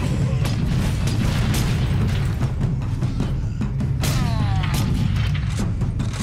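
Rocket explosions and gunfire in the sci-fi shooter Space Marine, heard as a steady, dense battle rumble with repeated sharp booms and bursts over a low roar throughout.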